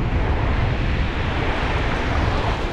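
Ocean surf breaking on the shore at Bolinao while fishing with a micro stickbait, a loud, steady wash of waves with wind noise running throughout, no voices.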